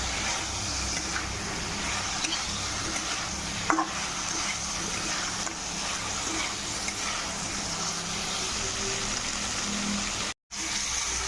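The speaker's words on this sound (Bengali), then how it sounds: "দেখো মাছের মাথাগুলো আমি দিয়ে দিলাম, মাছের মাথা দিয়ে কিছুক্ষণ কষিয়ে নেব" Fish heads fry with tomato in a pan for a Bengali moong dal dish, a steady dense sizzle with occasional soft stirring clicks, continuous and close, cut by a brief gap near the end.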